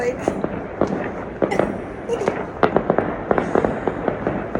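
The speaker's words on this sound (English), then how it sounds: "Fireworks on my last day in Rome." Fireworks go off at night in Rome, a rapid scatter of sharp cracks and pops at mixed distances over a busy background, with people talking and exclaiming throughout.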